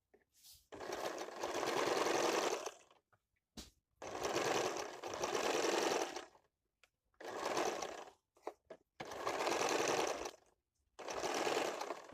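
A sewing machine stitches a blouse sleeve in five loud, steady bursts of whirring, each lasting about two seconds, separated by short quiet pauses while the fabric is repositioned; no one speaks.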